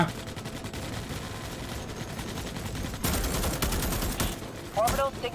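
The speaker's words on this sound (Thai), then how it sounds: "กระสุนที่กูยิงไปมันลอยไปไหนเนี่ย" Gunfire in the video game Starship Troopers: Extermination, a dense continuous fusillade of rapid automatic shots, swelling louder in the second half with a burst of tonal effects near the end.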